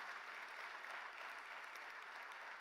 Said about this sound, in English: If we could just give them a round of applause and express our gratitude for their service today.